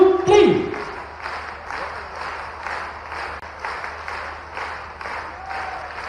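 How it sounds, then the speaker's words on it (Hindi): Audience applause welcoming the Chief Minister of Madhya Pradesh at a public event, a steady wash of crowd clapping that rises and falls in waves, with an announcer's amplified voice at the start. "जोरदार तालियों से आमंत्रित करते हैं मध्य प्रदेश के मुख्यमंत्री माननीय मोहन जी यादव"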